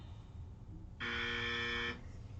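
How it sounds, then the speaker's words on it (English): A loud, steady electronic buzzer sounds for about a second against a quiet background, then cuts off abruptly. "Nice, the buzzer."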